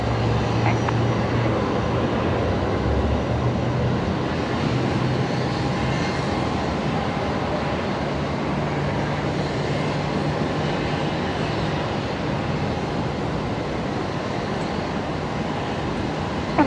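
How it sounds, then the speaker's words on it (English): An Airbus A330 arriving from Auckland landing at Brisbane Airport at night, a loud sustained broadband jet roar with low rumble that stays steady throughout, heard from nearby. "126 A330 coming in a little bit late tonight from Auckland. Let's pick that up here now."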